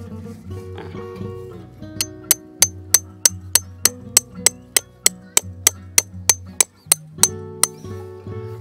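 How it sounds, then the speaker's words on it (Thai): Tent stakes for a Zane Arts Zeku-M tepee tent being hammered into the ground: a run of about eighteen sharp, evenly spaced metallic strikes, loud and close, over a low background hum. "เราก็ทำการ ตอกสมอนะครับที่ตรงนี้"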